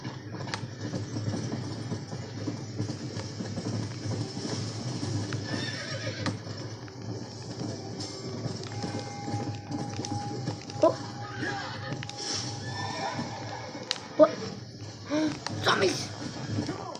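A horse in the video game Red Dead Redemption gallops with steady clip-clop hoofbeats and whinnies, over a constant game soundscape, with a few sharper thumps toward the end.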